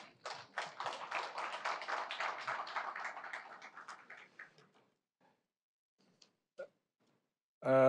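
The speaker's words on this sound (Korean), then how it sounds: "다시 한번 다닐로 총장님께 감사의 박수를 보내드립시다." Modest applause of thanks from a forum audience at a university anniversary event, a few seconds of clapping that fades into near silence with a couple of isolated taps.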